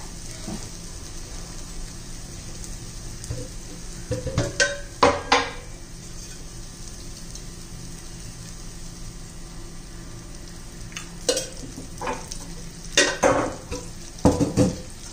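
Dill and gram flour curry cooks in oil in a pan with a low continuous hiss of frying, broken by bursts of spoon scraping and clattering against the pan's metal sides.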